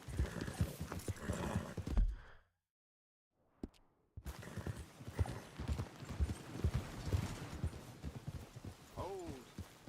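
A horse clip-clops steadily in Red Dead Redemption 2, its hooves pausing briefly before resuming, with a short whinny near the end and people talking over the hoofbeats.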